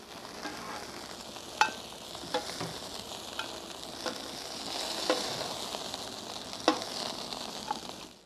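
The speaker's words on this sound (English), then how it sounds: "So the first thing we're gonna do is sear" Prawns searing in a pan, the first step of a short-grain rice dish at a Singapore hawker stall, giving a steady high hiss of sizzling oil punctuated by sharp clinks and scrapes of a utensil, with no talking.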